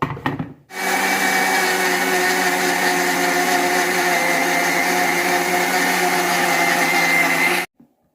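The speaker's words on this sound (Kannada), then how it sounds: "ಇದನ್ನು ನಾವು ಮಿಕ್ಸಿಗೆ ಹಾಕಿ ರುಬ್ಕೊಳ್ಳುವ" A mixer grinder whirs loudly and steadily for about seven seconds as it grinds a dried prawn chutney, preceded by a few knocks and brief clatter before it starts and ending abruptly when switched off.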